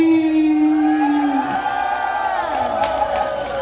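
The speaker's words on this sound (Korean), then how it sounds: "여러분 다같이 함성소리" A crowd at a traditional Korean funeral-procession performance cheers and shouts together in a sustained, loud chorus of voices, with rising and falling yells blending into one continuous roar.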